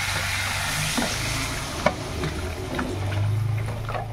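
Spice paste with onions sizzles and crackles in a hot pan, a steady frying hiss with a few scraping stirs and a small clink.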